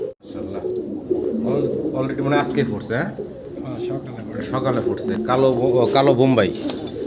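A pair of black Bombay pigeons coo in a loft, low throaty rolling calls repeating close by while people talk over them.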